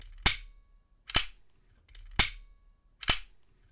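A spring-loaded lock pick gun snaps its trigger four times, each a sharp, loud, isolated click at roughly one-second intervals, with near-silence between.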